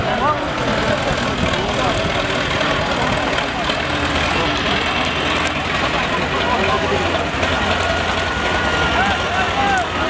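A tractor engine runs steadily throughout at a rural kopkari horseback event in Urgut, a loud rumbling drone with a knocking beat, mixed with crowd noise and voices.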